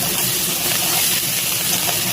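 Potatoes and freshly picked vegetable flowers sizzle in hot oil while frying, a steady, loud, bright hiss that runs unbroken for a couple of seconds with no talk over it.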